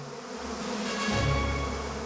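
Local black honeybees on the island of Groix, a close, continuous buzzing drone with a slight swell in the middle, heard alone for about two seconds.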